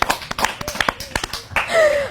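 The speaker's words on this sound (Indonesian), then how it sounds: "Tepuk tangan buat Kak Retno teman-teman" A few people clap for a live-stream commenter, a short run of sharp, uneven claps repeating over two seconds. A voice speaks briefly near the end.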